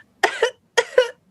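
A man imitates a heavy, hacking cough like a worker's after a day of labor, two short bursts of rough coughing in quick succession, close and clear with nothing behind it.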